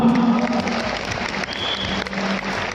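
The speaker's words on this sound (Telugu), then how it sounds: "అలాగే ఒక్కసారి మన అప్లైన్స్ అందరికీ క్లాప్స్ ఇద్దామా?" Audience applause at a business opportunity talk, steady clapping filling the room throughout.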